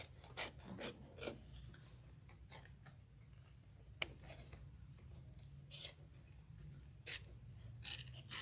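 Sharp scissors snipping and trimming fabric for embroidery, a series of crisp, close cuts in irregular bursts with quiet pauses between.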